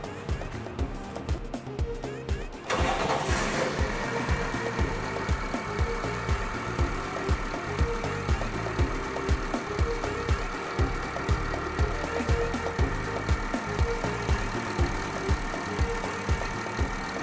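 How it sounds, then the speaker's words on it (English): A diesel engine cranks and catches, then settles into a steady, rumbling idle with a rhythmic knock that continues throughout. "You can go ahead and start the engine to see if it's really working."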